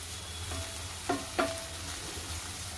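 Okra spread out in a pan fries with a low, steady sizzle, marked by a few soft scrapes of stirring, for thecha bhendi.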